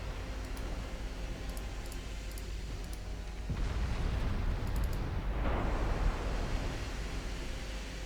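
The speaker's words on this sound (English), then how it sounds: "Torpedoes are actually being launched." Torpedoes launching from warships in a naval battle in Ultimate Admiral Dreadnoughts, set in 1910, heard as a broad rushing whoosh over steady sea and engine rumble, swelling twice.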